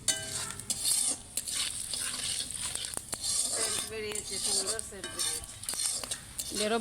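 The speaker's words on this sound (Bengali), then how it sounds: "তেজপাতা, একটু গোটা জিরে নাড়াও নাড়াও, নাড়িয়ে নাও।" Bay leaves and whole cumin fry in a pan while being stirred, giving a continuous sizzle mixed with clinks and scrapes of a metal spoon, with a voice talking over it at times.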